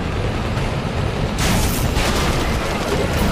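A tank firing and explosions in the video game Prototype 2: dense rumbling blasts that swell into a loud, broad burst midway through and keep booming to the end.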